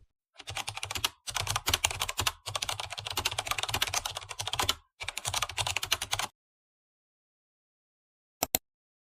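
Rapid, close computer keyboard typing in dense bursts with brief pauses, stopping after about six seconds, followed by silence and one short final flurry of keystrokes.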